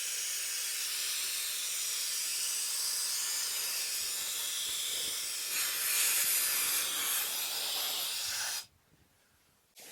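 Steady, close hiss of a Wolfbox Megaflow 200 blower or vacuum with a crevice tool working along a caravan door threshold, running continuously before cutting off near the end.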